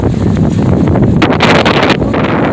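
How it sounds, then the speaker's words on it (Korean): Strong gusts from Typhoon Maysak batter the microphone outdoors in Busan, a loud, rumbling roar with rushing bursts and buffeting, and no talking. "지금 바람이 불고 있어요"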